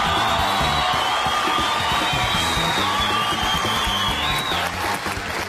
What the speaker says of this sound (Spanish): Así que los aplausos para mi Pati linda